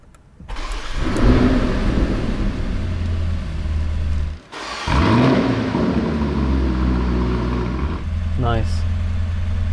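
A Lamborghini Urus Venatus Black Super Mansory engine cranks and fires up twice, roaring into a deep rev before settling into a rumbling idle, loud and close, with a brief chirp near the end.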